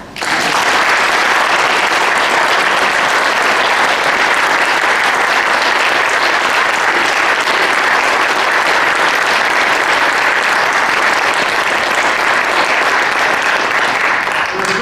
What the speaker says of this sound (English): I'm going to come over here and let people applaud you.